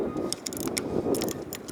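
A stuck bolt is turned loose with a tool in a few short ratcheting clicks and metallic rattles over a low background, close by and fairly quiet.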